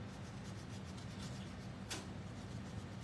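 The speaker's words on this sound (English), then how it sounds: "No, I'm just sanding it." Quiet, steady rubbing and scraping, like sandpaper worked back and forth by hand, with one brief sharper scratch partway through.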